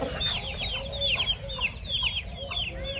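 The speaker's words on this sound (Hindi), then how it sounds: "ये सारे बच्चे आए हुए हैं मुर्गी के साथ" An Aseel hen clucks close by while her chicks keep up a busy, overlapping chorus of high peeping chirps throughout.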